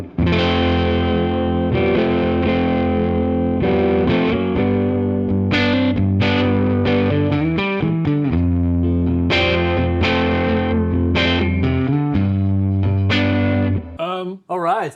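Epiphone electric guitar played through its humbucker pickups with distortion effects, delivering a loud, continuous run of overdriven riffs and chords for most of the passage, then breaking off briefly near the end.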